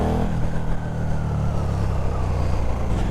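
A motorcycle fitted with a Vandemon full exhaust system rumbles loudly and continuously in a low, snarling tone, as if riding in rush-hour traffic.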